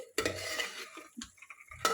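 Spoon scraping and stirring soaked cowpeas into cooked masala paste in a cooking pot, a few clattering, scraping strokes with short pauses, close and fairly quiet, without speech.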